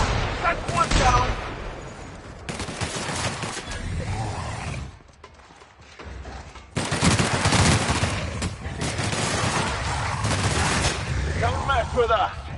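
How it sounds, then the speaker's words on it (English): Bursts of rapid gunfire crackle loudly in repeated volleys in the game The Outer Worlds, pausing briefly mid-way before resuming, with voices talking over the shooting. "If anyone's inside, they're liable to respond with gunfire."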